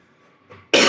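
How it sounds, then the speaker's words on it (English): One abrupt, loud cough from a person with a lingering cough, preceded by a brief soft throat sound, close and alone. "I've got a bit of a cough going on"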